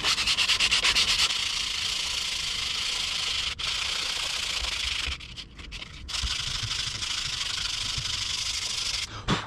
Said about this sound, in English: I want to sand that down, and I am using non-slip, I think it's 80 grit.